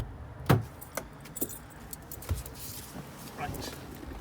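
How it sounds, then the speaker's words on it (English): Two ignition keys for a 1992 Oldsmobile 88 Royale jangling in short, close metallic bursts, several separate clinks and rattles at a quiet level with light background noise. "try the ignition keys, the two of them, make sure they both"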